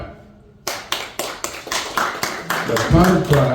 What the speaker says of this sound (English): கை தட்டி பாருங்க.